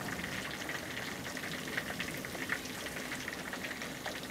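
Fish frying in hot oil for a chili sambal dish gives a steady, dense sizzle with small crackling pops throughout, close and continuous, with no talking.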